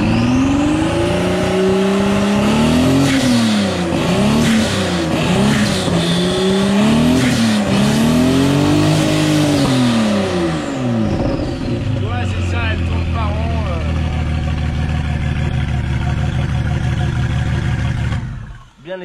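A Citroën Traction fitted with a V12 bi-turbo engine runs close by, revving repeatedly in rising and falling swells before settling into a lower steady idle, loud throughout.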